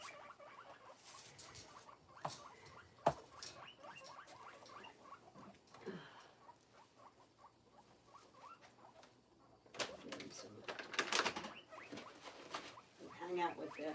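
Pet guinea pigs chewing on pieces of bell pepper, giving quiet, irregular crunching and nibbling patters up close, with occasional squeaks and a busier burst of munching toward the end, brief soft talk in places.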